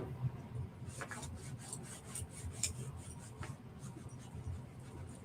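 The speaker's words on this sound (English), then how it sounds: "I'm just using an old t-shirt, and I'm just going to rub the wax on the surface" An old t-shirt rubbing wax onto the surface of a wood block, with soft, close, rasping strokes repeating in an uneven back-and-forth rhythm at low volume.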